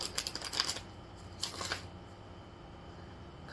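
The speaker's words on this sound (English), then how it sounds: "I'm gonna shuffle the traditional way for this last time." Tarot cards are riffle-shuffled the traditional way in two quick crackling bursts, close and fairly quiet, with a brief pause between them and a hush afterwards.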